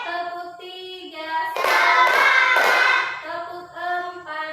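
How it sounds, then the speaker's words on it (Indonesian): Classroom of pupils clapping hands together in a brief rhythmic burst of several quick claps, loud and close, between stretches of sustained tonal background sound. "Tepuk 1, tepuk 2, tepuk 3"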